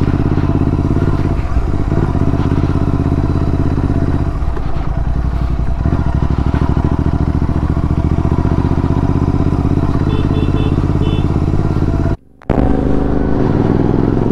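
A Royal Enfield Interceptor GT 650 rides on a weekend trip around Hyderabad, its twin-cylinder engine thrumming loud and constant up close amid wind and road rumble, with a brief dropout near the end.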